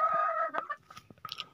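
Chickens cluck nearby in short, scattered bursts, with a brief higher squawk near the end.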